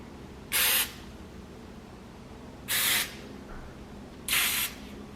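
Cooking spray is spritzed onto a pan for making pancakes in three short, crisp hissing bursts spaced evenly apart, close and clear over a quiet room background.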